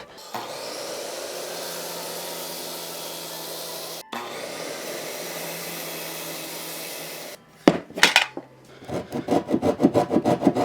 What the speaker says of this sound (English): God, I love pull saws.